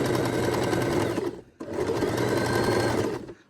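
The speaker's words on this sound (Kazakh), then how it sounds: "Осылай соңына дейін тігіп аламыз." A sewing machine stitches a blouse hem in two loud, rapid runs of close mechanical clatter, briefly pausing between them before trailing off.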